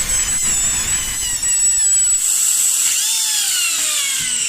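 A turbine drill bores a circular hole through stone at a 45-degree angle, giving a steady loud high whine with shifting pitch that holds throughout, alone and close.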